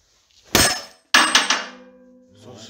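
A bigger, long-handled hammer strikes the front wheel hub of a Skoda Octavia during hub replacement, giving two loud metallic clangs with ringing decay, the second blow followed by a quick rebound clink, close and harsh.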